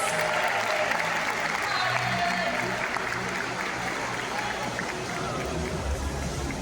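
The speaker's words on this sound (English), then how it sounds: "How about another round of applause for our incredible team of trainers?" Audience applause at an aquarium dolphin show, broad steady clapping from a large crowd that holds fairly even for the full stretch, filling the venue without a break.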